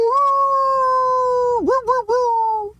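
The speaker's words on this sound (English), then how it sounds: "I love that wolf howl. I've heard that wolf howl for decades." A long, drawn-out wolf howl holding a steady pitch, then breaking into a few wavering, dipping yelps near the end; loud and alone.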